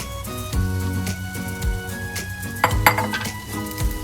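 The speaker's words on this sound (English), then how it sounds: "Now stir it so the sauce is evenly spread among the pasta." Pasta being stirred through Schezwan sauce in a pan, the utensil scraping and clinking against metal in steady, close, busy strokes, with occasional sharper clanks and no talking.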